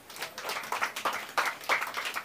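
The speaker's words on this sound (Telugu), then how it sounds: "ఇది బాగా చెప్పాడు కదా, ఇది కూడా క్లాప్స్ కట్టండి" Children clap at a Bible school event, the claps arriving as a bright, uneven burst of hand slaps at moderate loudness with no talk over them.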